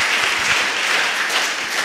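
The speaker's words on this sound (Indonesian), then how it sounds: "Tepuk tangan dulu buat Tuhan kita" A church congregation claps together in steady, dense applause at a worship service, a broad close wash of hand claps filling the moment with no voices standing out.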